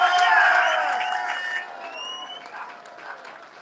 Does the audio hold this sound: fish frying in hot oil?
no